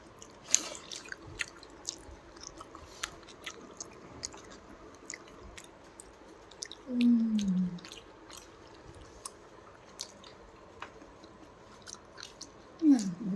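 Quiet, wet chewing and small bites while eating madiaa itili pitha, soft clicky mouth sounds scattered throughout, with a couple of brief vocal sounds standing out.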